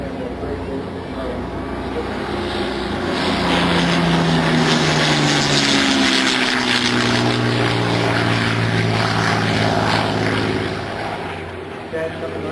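A turboprop aircraft engine drones steadily at an airshow, swelling louder as it passes with a falling pitch sweep, the roar holding for several seconds before easing off.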